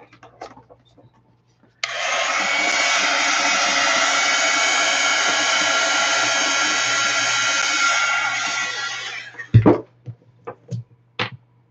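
A handheld dryer blows over a large 11x14 mixed media watercolor painting, switching on abruptly with a steady, loud whoosh that runs for several seconds, then cuts off and leaves a few soft handling knocks.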